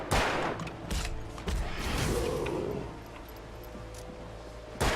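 Gunfire in a video game: a few sharp shot bursts near the start and end, with a stretch of rumbling game noise between them and faint talk in the background.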